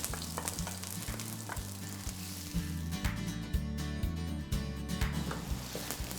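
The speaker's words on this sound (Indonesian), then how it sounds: "langsung akan aku tumis bawang bombaynya" Onions sautéing in a hot pan, a loud, continuous crackling sizzle with stirring scrapes, close up and alone, beneath a steady low background tone.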